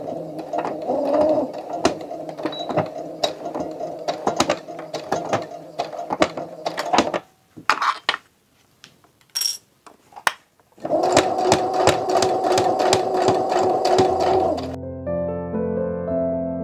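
A sewing machine stitches a pillowcase with rapid mechanical clatter, running in two long bursts separated by a short pause with brief handling noises, close and clear with no talking.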